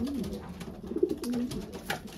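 Racing pigeons coo softly inside a loft, low, repeated throaty calls close by against a steady background hum, with a faint rustle near the end.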